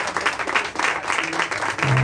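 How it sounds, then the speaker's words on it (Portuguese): A church congregation claps together, a dense steady patter of many hands that runs under a few words of speech, with organ or keyboard notes coming in at the end. "Então vamos aplaudir o nome de Jesus."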